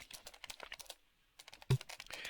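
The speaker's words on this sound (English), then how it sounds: "And somebody be typing." Keys clatter in quick, uneven bursts of typing on a keyboard, then stop for a short gap and start again, close and fairly quiet with one sharp louder tap.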